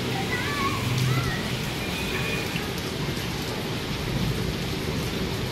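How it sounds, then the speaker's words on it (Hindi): Light rain falls steadily on a rooftop with a gentle breeze, a continuous soft hiss with scattered drops and faint tonal sounds in the background, holding an even level throughout. "ये हल्की हल्की बारिश हो रही है, ये देखें साथ हल्की हल्की हवा भी चल रही है।"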